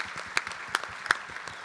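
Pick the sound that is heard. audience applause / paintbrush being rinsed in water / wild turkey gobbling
audience applause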